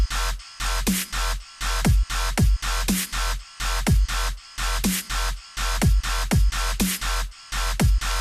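Basic dubstep beat built from a BandLab creator kit: punchy kicks and snares with wobbling bass in a steady, repeating loud pattern, looping several times with short gaps between hits.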